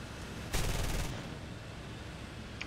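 Aircraft guns in War Thunder fire a short, rapid half-second burst over the steady roar of an engine, which continues alone afterward.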